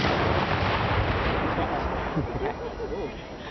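A Civil War cannon fires at a reenactment in Cook Forest, giving a heavy, booming blast with a rumbling roll that fades over a few seconds, heard fairly close.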